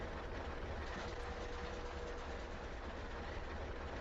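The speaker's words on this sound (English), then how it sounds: "Sounds like an RS-3." An RS-3 diesel locomotive in Train Simulator on the Boston–Albany New York Central route, a steady, dense engine drone with rail rumble that holds constant and fairly close for the whole stretch, with no voices.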